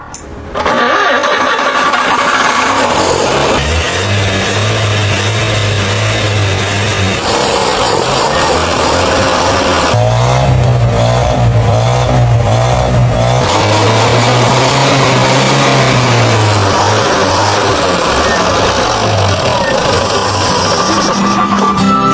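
A rebuilt engine in a 1990s Beijing Jeep 1021S cranks briefly, catches and keeps running, a loud close steady idle with rough pulsing that shifts in pitch as it settles.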